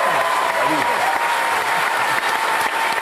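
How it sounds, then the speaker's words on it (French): TV studio audience on a French Sunday variety show applauding loudly and continuously, a dense wash of clapping with some voices mixed in underneath. "tout le monde va vous applaudir à faire trembler les murs de ce studio"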